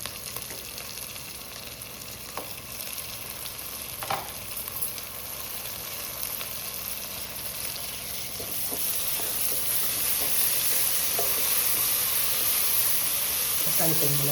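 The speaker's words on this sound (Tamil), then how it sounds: "தக்காளி பழம் நல்லா வதங்கட்டும்." Onions and tomatoes sauté in a pan with a steady, dense sizzle that grows slightly louder and brighter over time, broken by occasional soft stirring scrapes, heard close with no talk.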